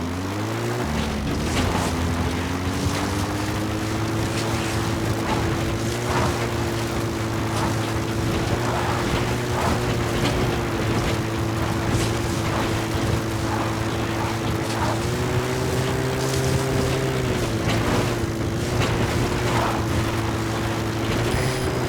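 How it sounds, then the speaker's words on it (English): Support helicopter in Metal Gear Solid 5: The Phantom Pain arriving at a landing zone, its rotor and engine drone loud and continuous with a steady pulsing throb and slight pitch shifts as it settles in. "Support helicopter has arrived."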